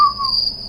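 A single cricket gives a short, steady high chirp, clear and fairly close, with no voices.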